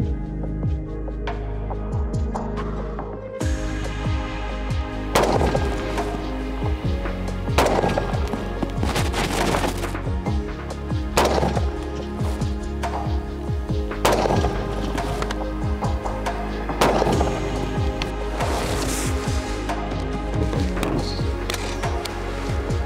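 Repeated rifle shots from an AR-15 type carbine with a 16-inch barrel, fired at a 200 metre range, ring out as sharp loud cracks spaced a few seconds apart over a steady outdoor background.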